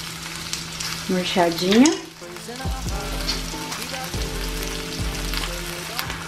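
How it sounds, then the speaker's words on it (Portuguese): Frozen bell pepper frying in a pan, a steady sizzle with stirring and utensil scrapes, close and fairly loud, with a brief spoken word. "agora que o pimentão já deu uma derretida, tá começando a fritar"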